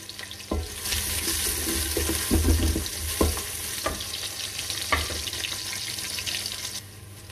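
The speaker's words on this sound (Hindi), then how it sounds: "ये प्याज डालेंगे और इन्हें थोड़ी देर फ्राई करेंगे जी।" Onions frying in hot oil in a pan for an aloo gajar (potato and carrot) curry, a steady close sizzle with occasional stirring clatters, no talk.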